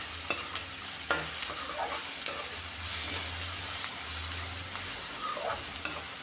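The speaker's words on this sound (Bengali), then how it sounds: "লবণটা দিয়েও আরও কিছুক্ষণ আমি পেঁয়াজটাকে ভাজা ভাজা করে নেব।" Onions with salt fry in oil in a steady, near sizzle, with occasional stirring scrapes and small ticks from a utensil against the pan, no voices.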